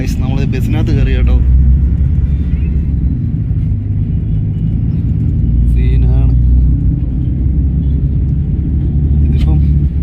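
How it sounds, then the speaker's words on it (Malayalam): Inside a moving bus on a Bangalore to Mumbai trip, a heavy, steady low engine and road rumble fills the cabin while people talk briefly over it. "നമ്മൾ ബസ്സിനകത്ത് കയറി കേട്ടോ."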